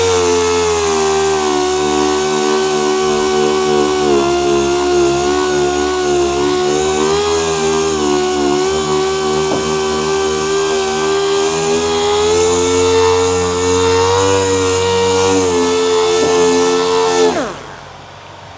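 Power sander with 2000 grit paper running on the Midnight Purple paint of an R34 Skyline, a loud steady motor whine with a constant pitch that stops abruptly near the end.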